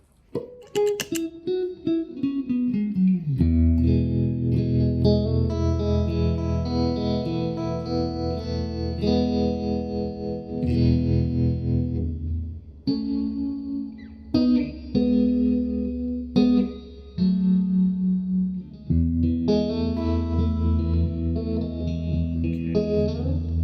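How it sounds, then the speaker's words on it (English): Electric guitar played through a Mojo Hand FX RVT reverb and tremolo pedal, sustained chords and single notes pulsing with tremolo and washing into reverb tails, loud and steady with brief pauses between phrases. "we'll put something with reverb and tremolo. We'll start with the RVT. So this is reverb and tremolo."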